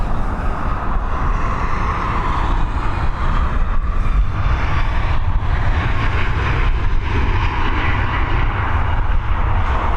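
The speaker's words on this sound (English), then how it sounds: "This Ryanair operated Boeing 737 MAX beginning its journey over to, talk about timing, she's heading over to Amsterdam." Ryanair Boeing 737 MAX taking off from Dublin Airport, a loud, close, rumbling jet roar with rough engine noise that pulses slightly and holds strong throughout, no voices.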